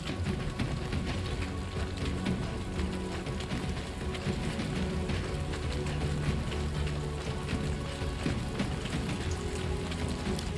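Steady rain in a video game, a dense even patter of drops on surfaces filling the whole stretch at moderate loudness with no pauses.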